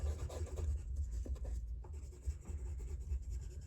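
Pencil shading fills in the wheel of a Ferrari F50 drawing, a steady close scratchy rubbing of graphite on paper that continues throughout with small pulses of stroke rhythm, no voices.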